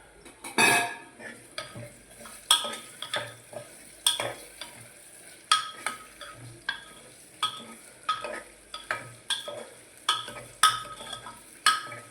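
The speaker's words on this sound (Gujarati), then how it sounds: "દૂધી નાખી મિક્સ કરી લઈશું બરાબર" Chopped bottle gourd is stirred into hot oil in a pan for a chana dal dish, with a steady run of sharp scraping and clinking spoon strokes over a faint sizzle.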